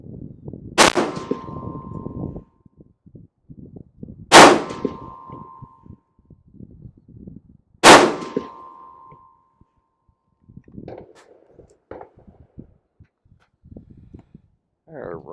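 Three loud, sharp 6BR rifle shots fired at a target, spaced a few seconds apart, each with a ringing metallic tail, separated by quieter handling noise and faint talk.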